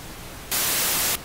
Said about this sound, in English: So pink noise, we'll leave it on pink because it's just a little bit more pleasant.